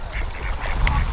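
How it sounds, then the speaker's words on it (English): A goose honks nearby outdoors, several rough nasal calls in a quick run, with one sharper honk standing out over steady wind and water-side background noise. "Mother goose."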